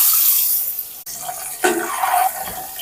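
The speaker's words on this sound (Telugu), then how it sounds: "కాస్త ఆయిల్ వేసుకొని మనం ఉప్పు కారాలు కలిపి పెట్టుకున్న గుడ్లండి అవి వేస్తున్నాను." Beaten eggs seasoned with salt and chili powder are poured into hot oil in a pan, giving a close, brief hissing sizzle that flares up again partway through.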